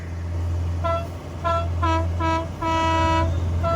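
A vehicle horn toots several times in quick succession, the last blast held longer, over the low hum of an idling engine.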